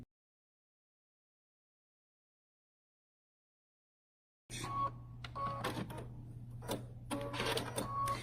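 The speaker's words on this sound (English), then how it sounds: "Okay, so we're going to sew one side." Silence gives way to a sewing machine stitching a pillow seam, with a steady motor hum under rapid rhythmic needle clatter that starts and stops in short runs.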